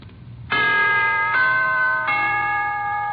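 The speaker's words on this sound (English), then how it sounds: "here is a holiday wish from the NBC Chimes" Three NBC radio network chime tones ring out in a rising sequence, each a clear bell-like note that sustains and overlaps the next, bright and close.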